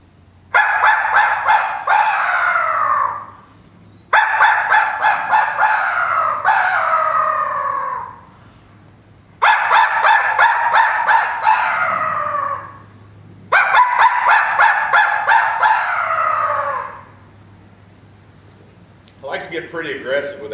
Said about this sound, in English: here's the crow vocals on the tie cut distress